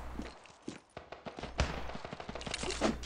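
Gunfire in Standoff 2, a competitive online shooter, crackling in rapid bursts and single shots with a loud close report near the middle, over constant in-game background noise.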